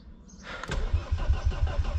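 A Mercedes OM605 diesel engine cranks after its glow-plug preheat, a steady low chugging rhythm of compression pulses starting about half a second in and continuing close and loud, with no talking.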